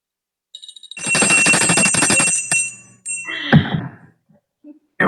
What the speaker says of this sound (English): that's my little cowbell